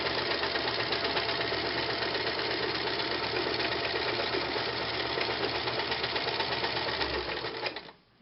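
A sewing machine runs continuously at steady speed during free-motion stipple quilting, a dense, even whirring hum that holds for several seconds before winding down and stopping.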